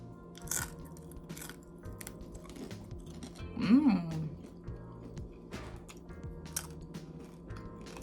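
A bite into crispy, oven-baked vegan bacon made from carrot gives one crunchy snap near the mic. Softer chewing follows at a steady close pace.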